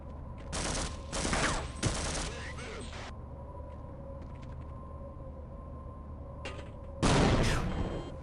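Grenades burst during combat in Arcanum: Of Steamworks & Magick Obscura, with loud rattling blasts early on, a quieter stretch of low rumble, then another heavy burst near the end.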